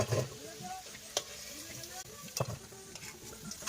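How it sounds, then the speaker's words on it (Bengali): Potatoes frying until reddish in a pan of oil, cooked outdoors on a trip in the Sundarbans, give a steady low sizzle with occasional stirring clatters and scrapes, close by and moderately loud. "আলু দেখো লাল লাল করে ভাজা হয়ে গেছে, এগুলো এখন তুলবো"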